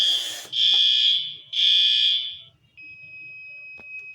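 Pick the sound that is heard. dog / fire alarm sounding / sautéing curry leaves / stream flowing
fire alarm sounding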